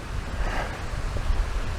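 A waterfall in Upper Eskdale in the fells makes a steady, close, broadband roar of rushing water, mixed with gusty wind noise on the microphone and no pauses.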